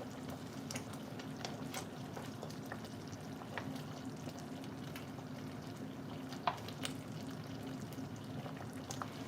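Thickening homemade jam is stirred in a pot on the stove, a low bubbling simmer with soft scraping spoon strokes and occasional clicks against the pot, quiet and close, no voices.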